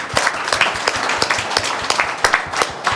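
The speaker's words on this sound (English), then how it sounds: "Can we have a round of an applause for them?" Audience applause at a live concert in Toronto, a steady patter of many hands clapping with no voices over it, fairly close and even throughout.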